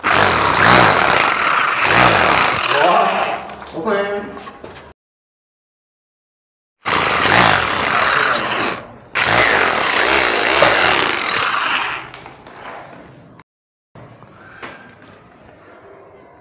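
A loud, harsh power tool grinds while cutting into electrical pipes in an underground wiring setting, running in long bursts separated by sudden silences, then winding down to a fainter whine.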